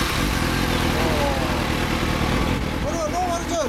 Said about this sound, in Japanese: これはノーマルチョイルマフラー